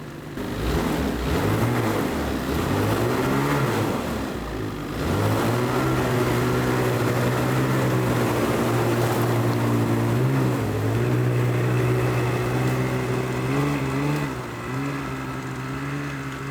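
Engine of a homemade car revving loudly and close, a continuous rough drone that rises and falls in pitch with throttle changes, with no talk over it.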